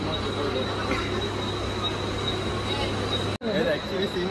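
A train's steady rumble and rattle fill the space with a constant low hum and a faint high whine, briefly cut by a sharp knock near the end.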